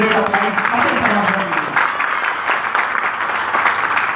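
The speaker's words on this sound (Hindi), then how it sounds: "एक बार जबरदस्त ताली होनी चाहिए, ग्रेट अप्लाइज।" A seminar audience in India applauds, a steady dense wash of clapping that goes on for the whole clip while someone speaks loudly over it.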